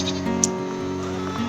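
Goats on a small homestead farm bleat in a short, close burst, the wavering animal cry standing out against a steady background hum.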